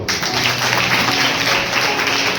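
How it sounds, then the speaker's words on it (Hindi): Congregation at a Hindi-language Sunday church sermon clapping loudly together, a dense, steady burst of applause filling the room. "जोरदार ताली बजाइए।"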